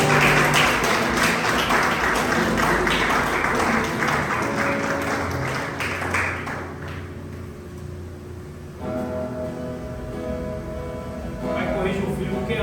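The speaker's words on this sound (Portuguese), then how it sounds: "Você pode aplaudir o Senhor aí." A church congregation at a men's worship service claps in a loud, sustained burst of applause that gradually thins, with a preacher's voice speaking over it.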